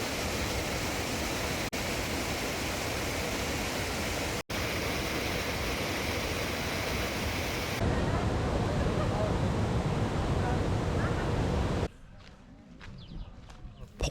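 Steady broad roar of a waterfall in Si Phan Don, southern Laos, loud and continuous for most of the stretch, then dropping to a quieter rush with faint footsteps and movement near the end.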